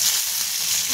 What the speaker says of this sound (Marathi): तेल छान गरम झाले, त्याच्यामध्ये जिरं टाकून घेते